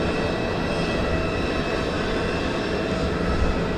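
An easyJet airliner taxiing at Southend Airport: a steady, loud jet engine roar with a continuous broadband rumble and faint whine, constant throughout without speech.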